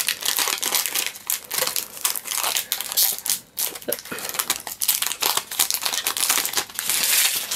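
Crinkling and tearing of a foil Sun and Moon Pokémon booster pack being opened by hand, a dense run of close crackles and rips with brief pauses.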